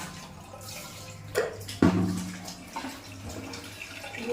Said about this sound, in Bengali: এবার বালতিগুলো ভরে নিই